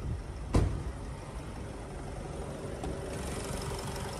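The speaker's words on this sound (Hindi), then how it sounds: "तो ये है 2000 in line four cylinder जैग्योर land rover Ingenium D two hundred diesel engine" A Jaguar Land Rover Ingenium D200 2.0-litre inline four-cylinder diesel engine idles steadily with a broad, even hum under an open bonnet, and a brief knock comes near the start.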